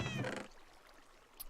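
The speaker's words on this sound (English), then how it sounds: "there's a wither cat outside." A wither cat in a FoolCraft 3 Minecraft modpack gives one drawn-out, harmonic meow at the start, then fades into quiet game ambience.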